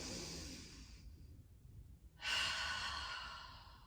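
A deep inhale taken while holding a position during a mat exercise, audible as a soft breathy rush, a pause, then a louder, fuller intake of air close to the mic, with no talking.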